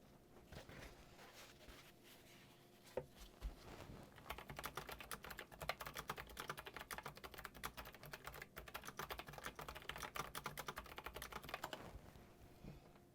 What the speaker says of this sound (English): retro classic keyboard, and it's sort of made to sound so it's got like clicky clacky keys.